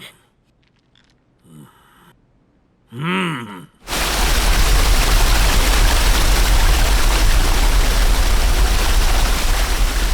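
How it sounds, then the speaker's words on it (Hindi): A waterfall roars as a steady, loud, broadband wash of splashing water that swells in after a few brief breathy vocal sounds and then continues unbroken to the end. "झरने का छीटा मस्त आ रहा है"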